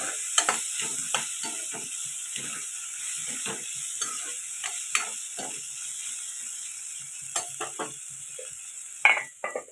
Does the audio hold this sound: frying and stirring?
yes